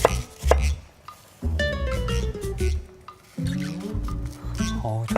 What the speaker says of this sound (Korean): 양파는 다져줄게요.